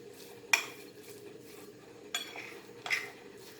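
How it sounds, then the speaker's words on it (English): A spoon mixes a Goan coconut pancake batter in a bowl, with three distinct clinks against the bowl over a quiet, steady background. "Mix this all nicely"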